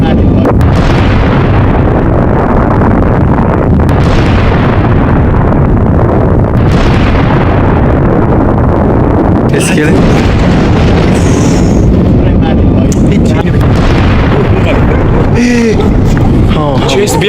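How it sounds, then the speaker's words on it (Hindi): Loud, dense rumbling blasts and booming roars from an attack near Chabahar Port fill the whole stretch, with repeated heavy bursts and voices faintly underneath. "चाबहार पोर्ट के पास हमला होता है और जबरदस्त धमाका यहां पर होता हुआ दिखता है।"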